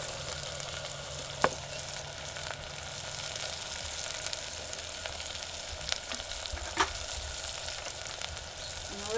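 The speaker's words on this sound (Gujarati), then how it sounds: "હવે નાખી દઈએ આ ટમેટા અને કોથમરી." Tomatoes and coriander sizzle steadily as they fry in a pan, with a constant soft hiss and a few sharp clicks of a utensil against the pan.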